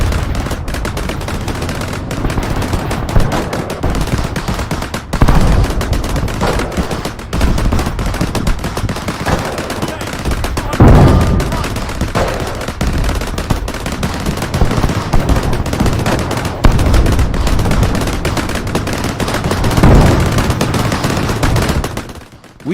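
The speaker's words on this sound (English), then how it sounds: "The M2 Bradley tanks of the United States move forward with unparalleled force, firing their cannons with deadly precision" An M2 Bradley firing its cannon in a battle around Kursk: loud, dense, unbroken bursts of rapid heavy fire rolling on for over twenty seconds, with sharper blasts standing out now and then.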